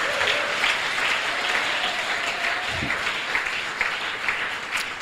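A church congregation applauds and cheers to honour the Lord, with steady dense clapping and crowd noise running through the whole stretch without pause.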